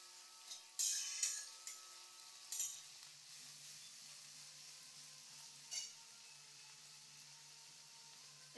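Ginger garlic paste hits a hot pan while cooking egg curry, producing a few sharp sizzling bursts and stirring scrapes over a soft background hiss, close up and without talk.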